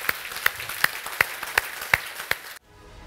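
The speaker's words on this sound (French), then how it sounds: "je vais vous demander, si vous le voulez bien, de vous lever et d'applaudir Hugues Chauvet parce qu'il le vaut bien" An audience at a 2018 debate event stands and claps in a steady, rhythmic beat, about seven sharp even claps at a brisk pace, before the sound cuts off abruptly.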